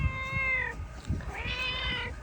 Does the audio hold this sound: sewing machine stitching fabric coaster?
no